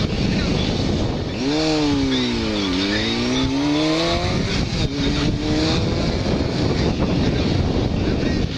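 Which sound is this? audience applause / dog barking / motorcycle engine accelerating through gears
motorcycle engine accelerating through gears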